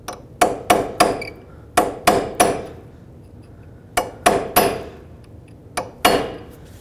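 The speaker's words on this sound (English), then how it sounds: "So take a punch and a hammer," A hammer strikes a metal punch to stake the axle nut on a 2003-2008 Toyota Corolla front hub, nine sharp ringing blows in two quick clusters with short pauses between.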